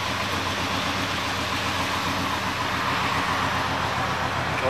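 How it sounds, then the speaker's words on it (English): A 1979 Pontiac Trans Am 10th Anniversary Edition idling, its exhaust giving a steady low rumble with an even, continuous beat, heard close up with no talking. "Nice sounding exhaust."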